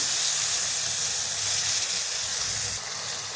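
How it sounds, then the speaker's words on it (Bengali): Ground green chili, cumin and garlic paste fries in hot oil, a loud, steady, close hiss and sizzle that eases slightly toward the end. "দিয়ে খুব ভালোভাবে মশলাটা কষে নেব।"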